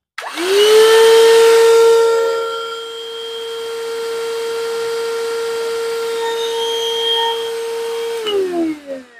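A Tusa cordless vacuum cleaner switches on, rises to a loud, steady tonal whine that settles into a constant hum, then spins down at the end.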